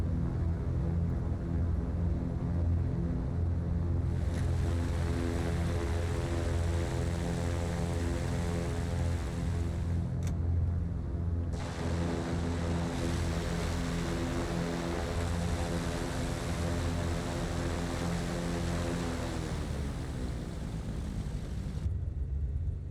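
A Cessna 310R's left engine in the FS2024 flight simulator throttles up to about 28 inches of manifold pressure, giving a steady, loud propeller drone with a deep rumble and a rising whine that holds throughout.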